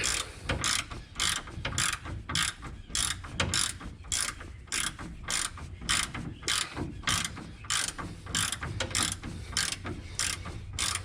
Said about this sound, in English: for the top mount, you just need to tighten it until it starts to squish the bushing